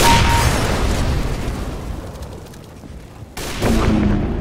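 Dense, loud gunfire from the video game CS:GO on the Dust 2 map in co-op mode, with sustained overlapping shots and booms that dip briefly before surging again.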